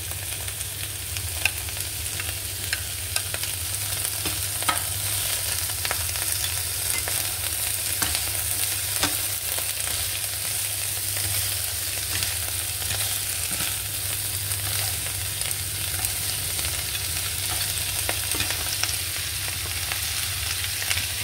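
Vegetarian rice vermicelli tossed with cabbage in a hot pan, a continuous even sizzle and frying hiss running throughout, close and fairly loud with no talking.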